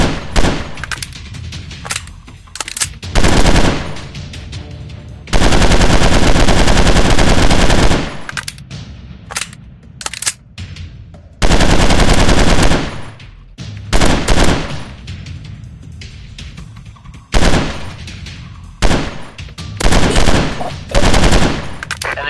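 Machine-gun fire in the mobile shooter Gorilla G Unknown Simulator Battleground: loud, close bursts of rapid automatic shots, some long and sustained, broken by short pauses and quieter stretches.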